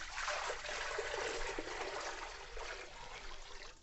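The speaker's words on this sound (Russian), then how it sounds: "наливаем воду в казан." Water pours steadily into a cauldron-style pot used for boiling potatoes for chuchvara dumplings, a continuous close trickling and splashing stream with no talk over it.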